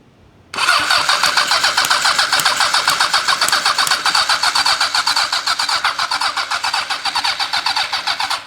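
A Honda CB750 motorcycle engine is cranked on the starter with the choke on, after a quiet start. It turns over in a loud, rapid, rhythmic chugging that holds steady for about eight seconds.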